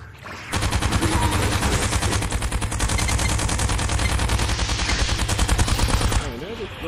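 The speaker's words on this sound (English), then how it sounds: "Why don't you introduce them to that chain gun of yours?" A chain gun firing in the VR game Gunheart, an unbroken rapid stream of loud rattling shots lasting around six seconds and then cutting off.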